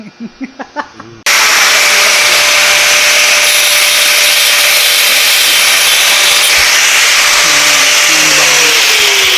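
A cutting disc grinds loudly and continuously through alloy metal, a harsh steady whine that starts abruptly after a second of quieter knocks.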